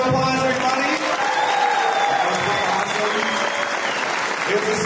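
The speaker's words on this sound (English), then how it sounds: "let's give him a round of applause, everybody" Loud, sustained applause from a large crowd at a Final Fantasy XI fan festival, steady clapping filling the room throughout with a busy murmur underneath.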